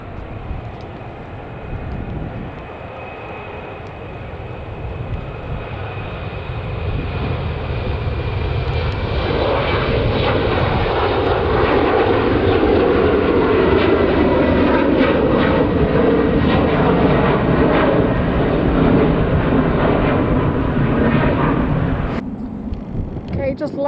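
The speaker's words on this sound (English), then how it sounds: "taking off then is a TAP Express Embraer E190 AR" A TAP Express Embraer E190 airliner takes off at an airport, its jet engine roar building from a steady rumble to a loud sustained thrust, with a voice talking over it.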